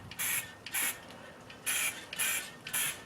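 Five short hissing spray bursts of sealant from an aerosol can, close by, separated by brief pauses.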